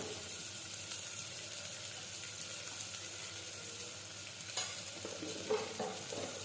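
Spices sauté in hot oil for a cowpea (choli) curry: crushed garlic chutney, turmeric and cumin. A steady, fairly soft sizzle runs throughout, with a couple of spoon scrapes near the end.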